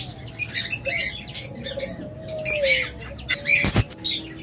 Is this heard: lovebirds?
yes